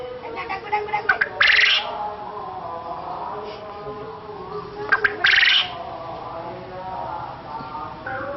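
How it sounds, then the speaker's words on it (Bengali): A rare babbler calls faintly outdoors; the calls are soft and weakened, with two short, brighter bursts standing out above a low, steady background. "তবে এই ডাক আরো জোরে হয়, একটু দুর্বল হয়ে পড়েছে বলে ডাকটা তত জোরালো নয়।"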